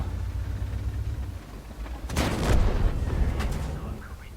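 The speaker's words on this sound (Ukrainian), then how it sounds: "Арта, як завжди, дістає." Artillery shell strike in World of Tanks: a broad, loud burst of impact noise that rings out over steady engine rumble, followed a second later by a couple of fainter cracking echoes.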